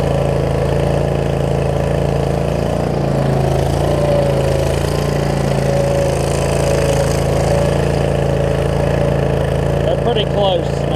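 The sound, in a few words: Troy Bilt Mustang zero turn mower engine at full throttle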